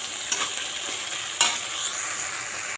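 A spice paste is stir-fried in a pan before pointed gourd is added. A soft, steady sizzle sounds close up, with a few brief scraping strokes of the spatula and no voices.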